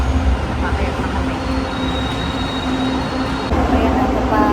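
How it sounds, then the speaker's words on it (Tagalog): A train pulling away from a Manila rail station platform, a loud rumbling roll with faint wheel squeal and a steady hum, close by, with voices faintly in the background. "Papaalis na ang tren."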